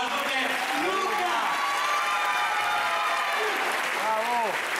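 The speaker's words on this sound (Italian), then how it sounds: "un bel applauso per Luca." Applause from an audience at a one-man comedy show, a steady wash of clapping for nearly five seconds with a voice calling out over it and some crowd noise mixed in.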